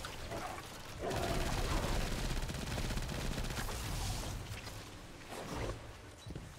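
Ice Breaker gunfire from the video game Destiny 2: a dense, loud run of shots roars for several seconds, fades, then another burst hits near the end.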